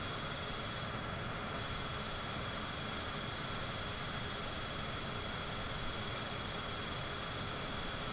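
An aircraft in Microsoft Flight Simulator 2020 taxiing across a runway gives off a steady, dense engine hiss and roar that holds evenly throughout, loud and unbroken with no voices.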